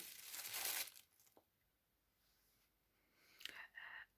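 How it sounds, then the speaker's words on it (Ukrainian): Plastic bag crinkles and rustles in a short burst as an item is pulled out, then quiets, followed by a few more crinkling handling sounds close by. "Зараз я його ще витягну з пакета."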